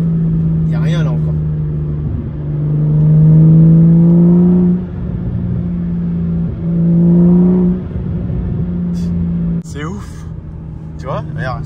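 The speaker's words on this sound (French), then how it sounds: "Et le V12 là. Je pense que vous allez super bien l'entendre." A V12 engine revs at about 3000 rpm. Its deep, steady harmonic drone swells twice to louder peaks and then settles, heard up close, with brief voices at the start and end.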